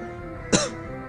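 A single short cough rings out clearly over a quiet background, one brief harsh burst.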